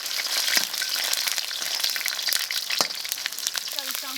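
Fatty pork belly stir-fried in a wok to render its oil, a loud continuous sizzle with spatula scrapes and pops close by, a brief voice near the end.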